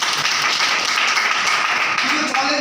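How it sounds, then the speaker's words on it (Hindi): Audience clapping at a product seminar, dense and continuous throughout a short burst, fairly loud and close with some voices mixed in. "तालियां बजाओ।"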